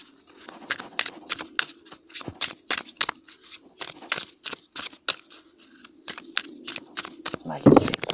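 Tarot cards being shuffled by hand, close up, in a quick, steady run of crisp riffling snaps and flicks, with someone speaking French near the end.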